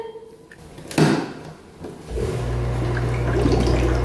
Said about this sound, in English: Oh, the jets are turning on.